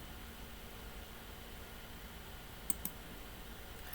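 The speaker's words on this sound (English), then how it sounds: "Now what I can do is go right click, copy." Two quick mouse clicks close together, a right click and a copy, made during computer work on a u-joint assembly design, sounding faint over a steady background hiss of fan or room noise.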